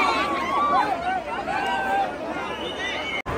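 Dense crowd at the Lalbaugcha Raja darshan in Lalbaug, a close hubbub of overlapping voices with one voice rising above the babble.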